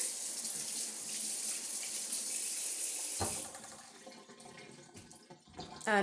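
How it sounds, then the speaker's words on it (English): Hands being washed under a running kitchen tap while making minestrone soup: a steady, fairly loud rush of water for about three seconds, then the flow cuts and scattered drips, splashes and small sink clatters follow, with no talking. "let me wash my hands one more time"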